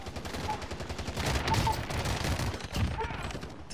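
Pistol gunfire in a video game, a rapid burst of loud shots crackling over several seconds with a player's voice talking amid the shooting.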